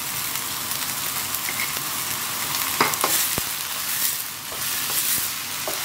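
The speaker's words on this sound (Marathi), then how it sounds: "आता न्हू आमी हे सारके सॉटे करूया अंटील हे टोमॅटो सॉफ्ट जाता न्हू" Onions and tomatoes sauté in a pan for a Goan meatball curry, a loud continuous sizzle punctuated by several sharp spatula scrapes and clicks against the pan.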